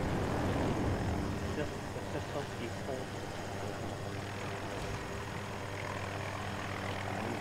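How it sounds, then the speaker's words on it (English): Aircraft engine roar from a jet flown in the video game Battlefield 2042, a steady loud drone throughout with a person talking over it. "I love flying the jet."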